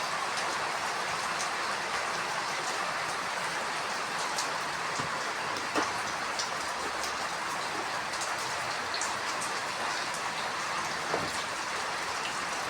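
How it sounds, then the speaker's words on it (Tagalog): Steady rain falling continuously in Laguna, Philippines, a dense even patter of drops on surfaces with occasional louder drips, no voices. "ulan dito sa Laguna ngayon"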